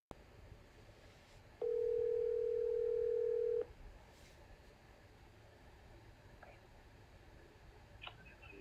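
A phone call is being placed: a steady single ringing tone sounds for about two seconds, faint and muffled over a low hiss of room noise, with only tiny clicks before and after.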